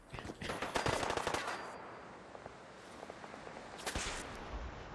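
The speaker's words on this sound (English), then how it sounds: "Taking fire." Rapid bursts of automatic gunfire from a Fallout 4 battle, loud and close, rattling in a dense volley before easing into scattered shots and another short burst.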